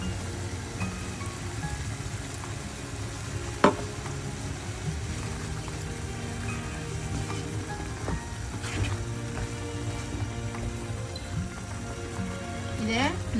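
Tamarind water is poured into radish and chana dal frying in a pan, giving a steady close sizzle with a few sharp metallic taps of a utensil against the vessel.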